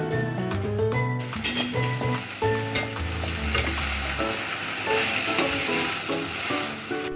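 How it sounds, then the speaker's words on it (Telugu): Mint leaves fry in a spoonful of oil in a pan for mint chutney, a close continuous sizzle with occasional clinks and stirring, and faint music-like tones underneath. "ఇప్పుడు అదే ప్యాన్లో ఒక స్పూన్ ఆయిల్ వేసుకొని కొంచెం హీట్ అయ్యాక పుదీనా ఉంది కదా, క్లీన్ చేసుకున్న పుదీనాని మొత్తం వేసుకొని మూత పెట్టి కొంచెం సేపు మగ్గించండి."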